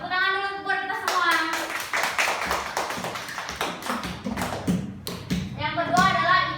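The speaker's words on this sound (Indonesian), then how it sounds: "Tepuk tangan dulu buat kita semua." A classroom of children claps hands together in a lesson on Islamic creed and morals, a dense, steady patter of taps filling several seconds, with children's voices calling out over it at the start and end.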